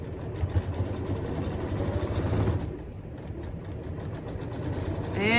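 A domestic sewing machine back stitching a small fabric tote, giving a steady close mechanical whir and motor hum that briefly eases in pace partway through before running on at an even speed.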